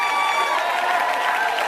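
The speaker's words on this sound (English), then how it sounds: "Keep your hands clapping, family." Audience clapping hands at a company business gathering, dense steady applause filling the room at an even level, with faint voices mixed in.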